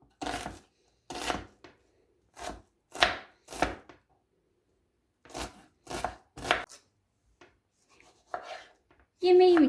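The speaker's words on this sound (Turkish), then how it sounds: "Bir tane orta boy soğanı küçük küçük yemeklik doğrayalım." Steady knife chops on a cutting board as a medium onion is finely diced, short crisp strikes in small uneven clusters, close and clear, ending with a brief louder clatter.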